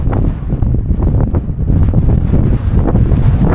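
Strong wind buffeting the microphone on an open Pennine Way hillside during a backpacking wild camp, a loud, constant low rumble with gusty swells and no voices.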